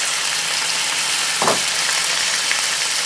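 Tomatoes and spices for achari keema sizzle in a small amount of hot oil over a high flame, a steady close frying hiss with a brief louder burst of crackling as they hit the pan.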